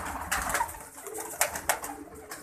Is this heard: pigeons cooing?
yes